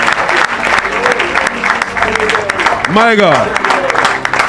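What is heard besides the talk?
audience applause at church service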